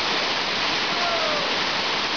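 Water rushes along a mountain trail on Mt. Mantalingajan, a loud, steady broadband roar of a stream or small falls, heard alone and unchanging.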